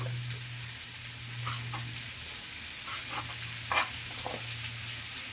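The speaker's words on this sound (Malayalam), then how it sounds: "തക്കാളി കൂടി വഴറ്റുന്നുണ്ട്" Tomatoes sautéing in a pan in a home kitchen, a faint steady sizzle with a low hum underneath and a few soft stirring clinks.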